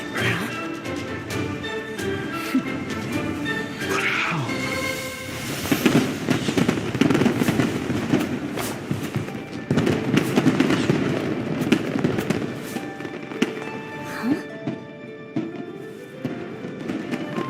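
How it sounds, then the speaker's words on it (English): Fireworks go off in the Genshin Impact video game: steady crackling and popping bursts layered over tonal in-game music and effects, loud and continuous throughout. "Fireworks show?"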